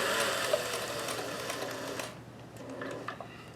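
Singer 431G sewing machine stitching lace onto a bodice at about 12 stitches per inch, a fast, even mechanical whir that runs for two seconds and then drops to softer, intermittent clicks and hum.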